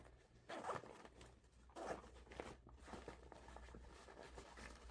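A zipper being pulled closed on a toiletries bag, a few quick close rasping strokes in bursts with short pauses, fairly quiet, no voices.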